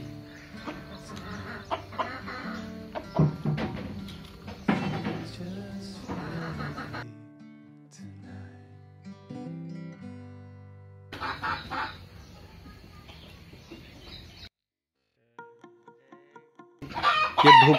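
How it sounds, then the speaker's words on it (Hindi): A rooster crows and chickens cluck in a village in Lotapani, India, with bursts of calls coming and going over several seconds, moderately close, amid light background noise and no talk. "ये मुर्गी चिल्ला रहा"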